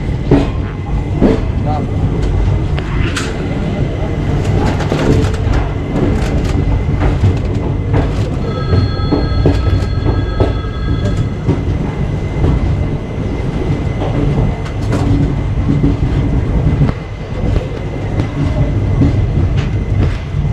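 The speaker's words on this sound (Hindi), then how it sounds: "बाड़मेर यशवंतपुर AC एक्सप्रेस से, जो कि कम्प्लीटली हाइब्रिड LHB प्रोसेस की है।" An AC Express train with LHB coaches rolls out of Solapur station, a loud steady rumble with rhythmic wheel clatter and a sustained whistle-like tone midway, with voices faintly in the background.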